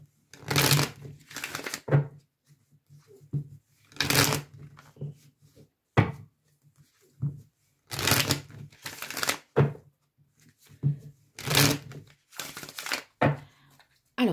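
Oracle cards are shuffled for a tarot-style reading in repeated crisp riffling bursts separated by quiet pauses, close to the microphone, with no talking.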